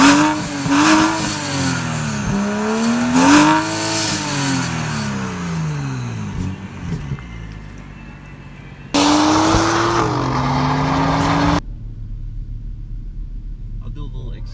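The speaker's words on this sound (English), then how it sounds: "I'll do a little acceleration" A modified BMW 435i engine revs and accelerates in rising and falling sweeps, loud and close, with a short burst of revving near the end before it drops to a low rumble.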